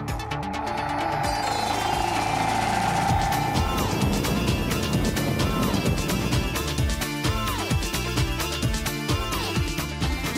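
A Royal Enfield 500 single-cylinder motorcycle on the road, its engine droning steadily and loudly throughout with shifting pitch as it rides, mixed with wind and road noise.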